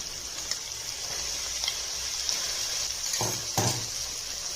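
Ground masala paste frying in a pan with tomatoes for kuska rice, giving a steady hiss with a few brief stirring scrapes and clinks near the end.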